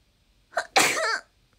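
A single loud, close sneeze with a short breathy intake just before it, then quiet.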